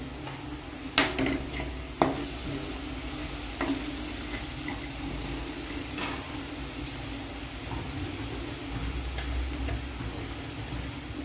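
Spices going into sautéed onion frying in a pan for spicy chickpea usal, a steady close sizzle with a few sharp taps from a spoon near the start, no talk.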